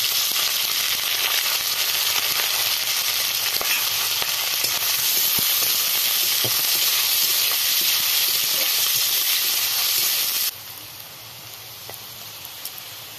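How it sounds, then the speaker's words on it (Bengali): Onion and chili sizzling in hot oil in a pan with cumin, a dense steady frying hiss, loud and close, that drops sharply near the end as the heat settles. "এবার পেঁয়াজ দিয়ে দেব। পেঁয়াজ আর লঙ্কা একসাথে দিয়ে দিলাম।"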